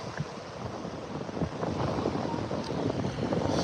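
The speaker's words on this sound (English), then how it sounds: "Kind of windy a little bit, but not too bad." Steady wind buffets the microphone in a continuous low roar on a beach in Sarasota, Florida, with faint surf-like wash in the background and no voices.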